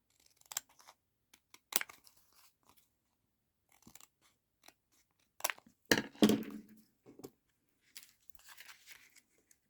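Scissors trim paper for a junk journal page, heard as sparse, quiet snips and short crisp cuts with soft paper rustling between them, close by in an otherwise silent room.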